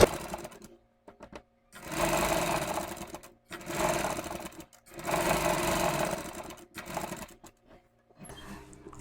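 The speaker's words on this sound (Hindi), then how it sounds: "जितने आराम से हम लोग अभी ये सिलाई लगा रहे हैं" A sewing machine stitches a net blouse held with pins, running in three steady mechanical bursts with quiet gaps between them, close and clear with no talk.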